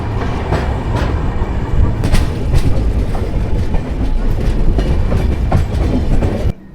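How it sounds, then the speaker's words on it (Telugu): A train rolls along steadily with a loud, continuous rumble and rhythmic clattering of wheels on the tracks, until it cuts off abruptly at the end. "మహబూబ్ నగర్ నుంచి మన ట్రైన్ అయితే బయలుదేరిపోయింది"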